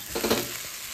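Cooked rice and spices are stirred into mixed vegetables frying in a pan, giving a close, steady sizzle with short scraping stirs.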